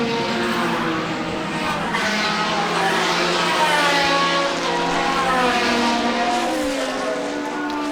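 A Matra Le Mans race car passing on a circuit during a low-drag demo, a loud high-revving engine wail with rising and falling harmonics as it sweeps by, continuous and strong throughout.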